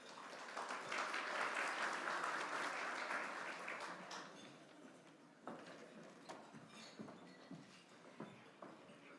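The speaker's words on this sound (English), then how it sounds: "So I'd like to give all of them a big round of applause." An audience at a city's State of the Address event applauds in a dense, sustained round that swells then thins to scattered claps, heard from a distance in a large room.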